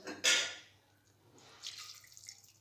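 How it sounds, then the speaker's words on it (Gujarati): A brief splash of water poured into a pot of green peas, followed by a softer trickle and light dripping, quiet and close. "હવે આપણે પાણી એડ કરી દઈશું"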